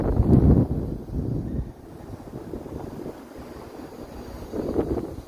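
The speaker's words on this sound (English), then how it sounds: "gust of wind coming out of nowhere here." A strong gust of wind on a Toronto lakeshore walk buffets the microphone with loud, low rumbling bursts that ease off and surge again.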